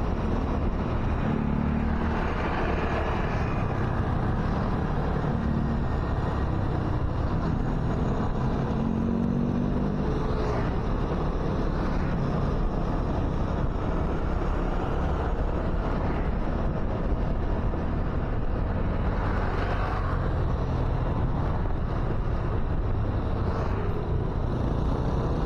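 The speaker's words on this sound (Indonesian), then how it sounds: "Jadi arus lalu lintas yang kawan-kawan lihat sekarang ini memang sepi lah" Light traffic on Jalan Kartama in Pekanbaru around 10 a.m. produces a continuous broadband roar of passing vehicles and wind buffeting the microphone, with occasional louder passes.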